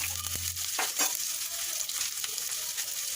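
Chopped onions, green chillies and garlic sizzle in hot oil with popped mustard seeds, a steady close crackle with a brief clatter of stirring near the start.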